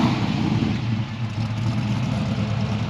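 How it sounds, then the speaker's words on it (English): A 6.0L LS V8 in a 1969 Chevrolet Camaro resto-mod idles with a steady, loping rumble, deep and continuous at close range with a slightly uneven throb and no voices. "You got a nice loping idle."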